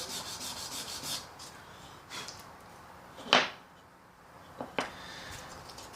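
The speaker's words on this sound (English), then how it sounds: "I'm only going to sand it a little bit." Sandpaper worked by hand along the edge of a wooden guitar top to form a small roundover, in quiet, scattered rubbing strokes with one sharper scrape partway through.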